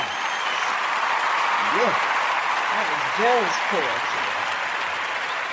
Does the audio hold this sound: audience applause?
yes